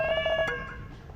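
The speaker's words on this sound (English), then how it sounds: "Kitty, kitty, kitty, kitty, kitty cat." A cat meows once in the video game What Comes After, a short clear tonal cry that fades out quickly, heard alone.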